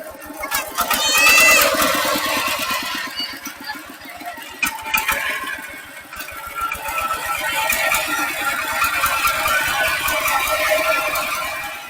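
An old ten-year-old farm tractor engine runs continuously with a steady chugging rattle, loud and close, with a few clanks and faint voices in the background.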